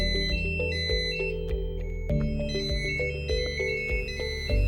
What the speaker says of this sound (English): Once the monitor goes into alarm, maintenance can silence the alarm within the web-based portal by clicking the silence button.